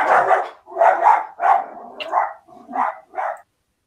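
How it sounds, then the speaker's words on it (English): A dog barks in a quick run of six sharp yaps, loud and close, then falls silent. "There's that dog again."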